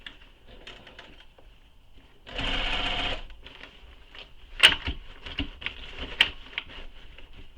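A sewing machine stitches the wide gusset onto the back of a convertible fabric bag, with a short steady burst of stitching in the middle and quieter handling noises and clicks around it.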